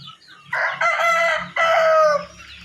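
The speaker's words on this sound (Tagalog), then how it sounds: "Andito tayo sa mga manok nating alaga." A rooster crows nearby in a loud, strained call, broken into two long harsh phrases.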